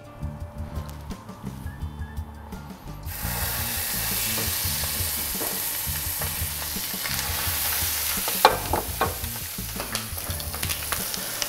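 Wild pheasant pieces browning in a hot pan, a steady close sizzle that swells loudly after a few seconds and holds, with occasional sharper spits and crackles over a low musical bed.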